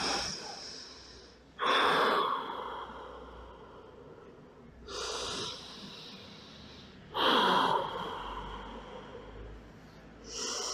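Slow, deep breaths during a stretching exercise, four long inhale-exhale cycles heard up close, each starting with a sharp audible intake and fading through a longer exhale.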